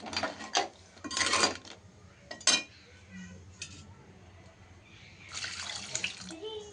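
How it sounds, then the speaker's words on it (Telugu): Water splashes and pours in several short bursts into a pot of crab curry, with a longer stream near the end, amid faint clinks of the pot. "ఇంకొంచెం వాటర్ వేసుకుందాం."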